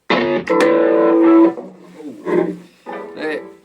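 An EastCoast G35 electric guitar rings through an amp with a distorted, sustained opening chord, then shorter strummed bursts and fading notes, loud and close.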